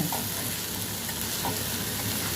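Fried black-eyed peas with garam masala stirred through them sizzle steadily in a pan, a continuous close frying hiss with soft stirring scrapes.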